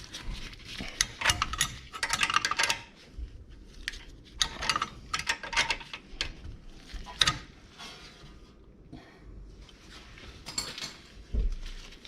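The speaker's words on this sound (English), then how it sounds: "switch back to your ratchet wrench and make the job a little faster" Ratchet wrench working a rear brake bolt on a 2020 Jeep Cherokee, a series of quick clicking bursts with pauses between them, close and fairly quiet.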